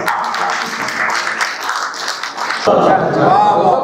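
Loud applause from a seated audience at a mushaira poetry gathering in Bangalore, a steady wash of clapping that shifts abruptly near the end as a voice begins speaking over it.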